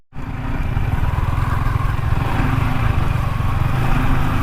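A motorcycle engine drones steadily and close on a village road, starting abruptly and holding an even, rough, low rumble without any voices.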